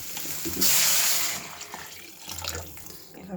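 Water pours into a cooking pot of carrot and soy chunks, a loud rushing splash for under a second that tapers into gentler trickling and faint kitchen clatter.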